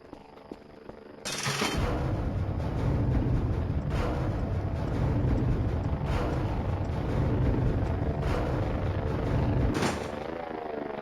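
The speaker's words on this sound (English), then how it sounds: "There's the drone." A drone in the Voices of the Void video game starts up abruptly and holds a loud, dense mechanical whir with rhythmic pulsing bursts every couple of seconds, fading slightly at the end.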